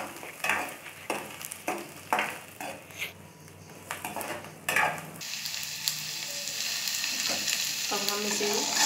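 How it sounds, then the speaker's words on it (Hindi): Onion and garlic frying in a pan for methi matar malai paneer, steady sizzling with repeated stirring scrapes in bursts, then a continuous louder hiss building toward the end; no talk. "लहसुन के साथ इसे भी हम हल्का सा फ्राई कर लेंगे।"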